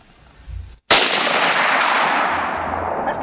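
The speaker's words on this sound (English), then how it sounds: "Here we go, bolt action hip fire." Single loud gunshot from a World War 1 Steyr M95 straight-pull bolt-action rifle fired from the hip outdoors, a sharp crack followed by a long rolling echo that fades slowly.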